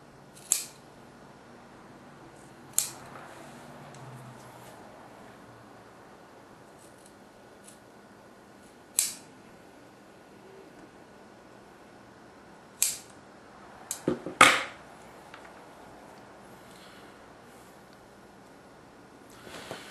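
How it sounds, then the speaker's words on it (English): Scissors snip through overlapping material while building a DIY back quiver, a few sharp isolated cuts spaced seconds apart, then a quick cluster of snips near the end, close and clear over a quiet room. "I'm going to trim off that overlap."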